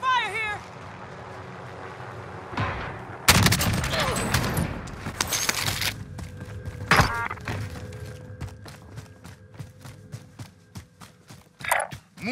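Gunfire in Call of Duty: Modern Warfare: a dense, loud burst of shots and impacts, then a long run of quick, evenly spaced pops that fade in and out, with a voice talking at times.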